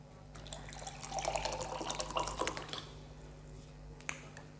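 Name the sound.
pouring room-temperature RO water into a glass with a tea bag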